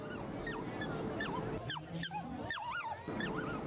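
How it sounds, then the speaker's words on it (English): A litter of tiny Dachshund puppies yelp from a wagon at an outdoor community day event, giving repeated thin, rising and falling whimpers and squeals over a busy background murmur. "the litter of tiny Dachshunds yelping from their wagon"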